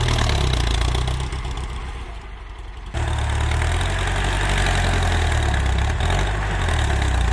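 Ford 7740 tractor engine working hard while grading tree stumps, a heavy continuous drone that dips briefly in load, then surges back to a full, steady roar close by.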